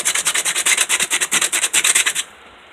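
Hand sanding of a painted paint-stick crate, lightly wearing through white paint: about fifteen quick, even back-and-forth rasping strokes, close and loud, ending abruptly.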